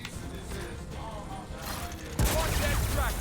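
DMR rifle fire in Gears of War 4: quiet game noise gives way to a sudden louder burst of repeated shots and mechanical clatter in the final second, while someone talks over it.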